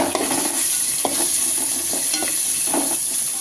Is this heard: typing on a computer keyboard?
no